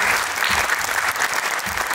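Loud, sustained applause from an audience at a Sikh arts and film awards event in India, a dense wash of many hands clapping close by, steady for the whole moment with a faint voice mixed in.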